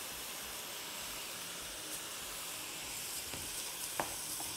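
Rice hits hot fat in a pot and sets off a dense, steady sizzling hiss that runs throughout, with a few faint clicks of stirring near the end and no talking.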